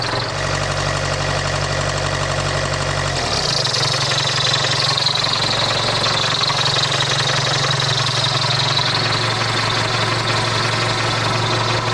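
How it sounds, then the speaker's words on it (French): An old 1990 Iveco Daily 35-8 naturally aspirated direct-injection diesel without glow plugs idles nearby, a steady low rumble with a rhythmic knocking clatter that shifts slightly in tone partway through, with no talking. "sur un vieux diesel atmosphérique, avec une injection directe et pas de préchauffage"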